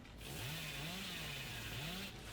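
A chainsaw drones continuously at close range, its pitch wavering up and down as the engine revs steadily throughout.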